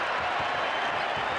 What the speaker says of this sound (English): And the crowd rising to their feet.